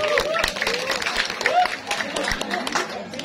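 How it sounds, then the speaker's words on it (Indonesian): Audience clapping at a Balinese comedy show, a steady patter of hands close by with a voice talking over it the whole time. "ngiring tepuk tangan"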